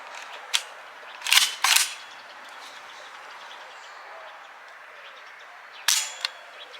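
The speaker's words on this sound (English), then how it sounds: "the trigger in this thing is real nice, but it's got a real long break on it." Trigger of a KUSA KP9 rifle with an AK-style trigger being pulled: a few sharp, close mechanical clicks, two pairs of snaps with a quiet stretch between them.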